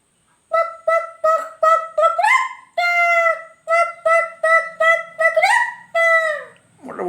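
A child imitates a chicken with a string of loud, nasal, squawking calls, about a dozen short bursts with a few longer drawn-out cries. The voice is very close, with nothing else behind it.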